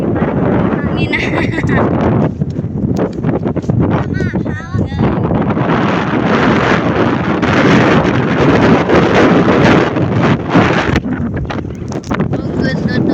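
Loud wind roars across the microphone in heavy gusts, with brief voices faintly audible early on beneath the rumble.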